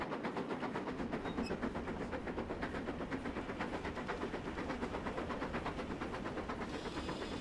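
Steam locomotive Duchess in Train Simulator on the Settle–Carlisle line, a steady loud rhythmic chuffing and clickety-clack of rolling wagons with hiss, continuous throughout with no talk.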